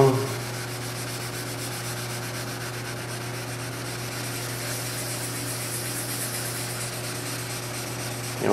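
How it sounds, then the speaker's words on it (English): Light wet sanding of black car paint with 1500 grit paper makes a close, steady scrubbing rub that continues evenly over a constant low machine hum, without any speech. "So we got 1500 here wet. Just going to go over it real lightly here."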